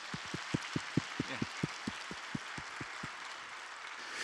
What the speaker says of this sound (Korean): 우리가 좀 축복하며 축하의 의미로 박수 한번 보내겠습니다